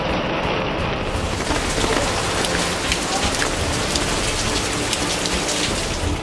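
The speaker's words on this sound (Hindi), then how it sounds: "दिल्ली NCR में बारिश के साथ ओले।" Heavy rain with hail falls in Delhi NCR, a dense, steady hiss of drops pattering on surfaces, loud and continuous with no voices.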